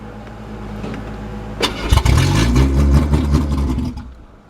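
A junkyard Ford EXP engine idles steadily, then clunks as the transmission is shifted into drive and the engine settles into a heavier, lower drone under load, loud and close throughout with no talking.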